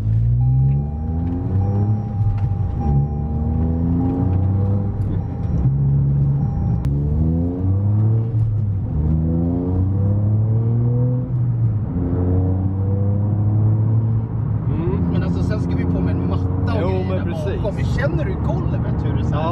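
A Toyota Yaris engine warms up and then drives, a steady close rumble with repeated rising revs as it accelerates through gears, while people talk over it.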